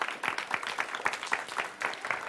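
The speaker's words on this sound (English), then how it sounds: "Can we give them a big round of applause?" Audience clapping a round of applause for sponsors at a children's reading roadtrip event, a steady patter of many hands lasting a couple of seconds with no voices over it.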